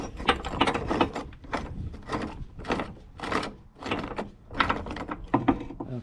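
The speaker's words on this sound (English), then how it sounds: "I'm using a wobble socket just to make it a little easier to get in there." A ratchet turning a wobble socket loosens a hatch bolt on a Jeep XJ, with repeated bursts of close clicking strokes in an uneven rhythm and short pauses between them.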